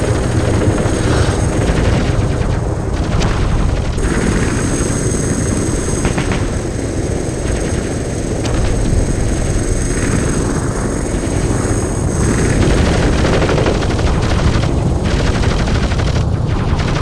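Gunfire from the video game Overblood 2 rattles in dense, continuous bursts over a loud, constant aircraft-like engine roar, thick, steady and close throughout.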